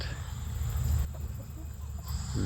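Chickens and roosters in a yard, low soft clucking under a steady background hum, fairly faint and continuous.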